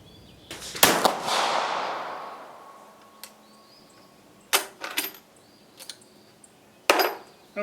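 Italian 1870/87 TS carbine fired outdoors: a loud, sharp report followed by a long decaying echo, then several fainter clicks and handling sounds, and a second report near the end.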